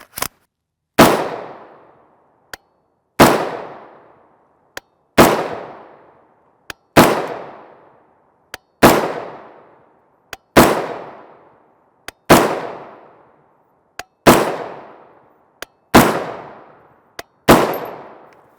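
Ten sharp, loud gunshots from a 10-inch BRN-180 rifle firing 7.62x39mm 124-grain FMJ ammunition, spaced about two seconds apart, each a close crack followed by a decaying echo, with fainter clicks between shots.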